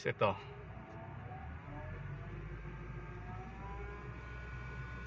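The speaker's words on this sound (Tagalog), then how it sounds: "Ang problema nito guys, meron siyang humming noise." An idling automatic car with its air conditioning running gives off a steady low hum, following a brief louder burst at the start, while someone speaks briefly over it.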